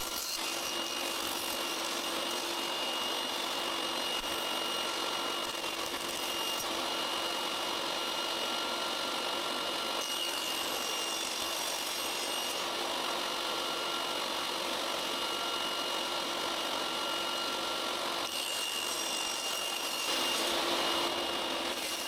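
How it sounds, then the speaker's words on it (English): A saw cuts 3 mm thick wood strips down to 1 cm width for a serving tray, a continuous close rasping whir with brief dips between passes. "Then I continue by cutting the 3 mm thick strips to a width of 1 centimeter."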